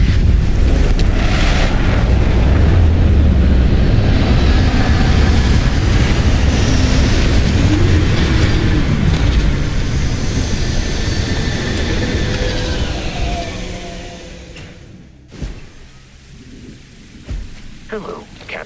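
A spaceship touching down in Starfield, a loud, sustained roaring rumble of engines and thrusters that holds for about thirteen seconds, then cuts off sharply into quieter mechanical clunks and hisses.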